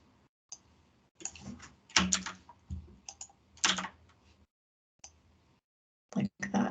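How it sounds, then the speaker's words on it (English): Bursts of computer keyboard typing while entering JavaScript code for a browser extension: quick, close clicks in clusters separated by brief pauses. "So let's just type that in."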